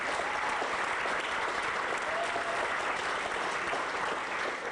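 Sustained applause from a live audience at a Simpsons cast reading, a steady wash of clapping that stays even and fairly loud throughout without a break.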